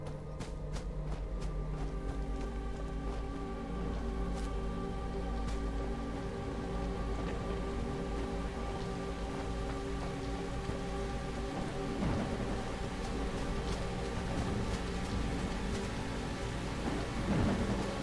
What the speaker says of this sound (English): I can barely hear myself with all that rain.